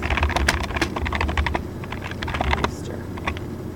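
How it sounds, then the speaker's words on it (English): Rapid typing on a computer keyboard fills the stretch with dense, uneven key clicks, close and steady, with no voices over it. "I'm going to start typing."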